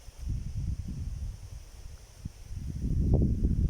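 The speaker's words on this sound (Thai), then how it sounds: "เสียงลมแห้งดีนะครับ" Dry wind gusts across a rice field in the hills, buffeting the microphone with low rumbling surges and leaf rustle that ease off and then build stronger toward the end.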